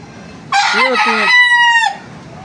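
A rooster crows once, loud and close, a long harsh call that rises and then trails off into a drawn-out ending.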